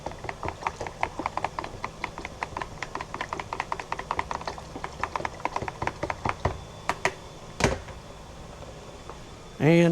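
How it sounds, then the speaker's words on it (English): Organic insecticide mix for tomatoes being stirred in a container, a run of close, rapid clicking and knocking strokes in a steady rhythm, fading toward the end before a brief louder knock. "All right, let's give this a little stir."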